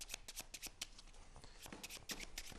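Playing cards being shuffled by hand during a close-up magic trick, a quiet, faint series of quick riffling and flicking bursts with no talk.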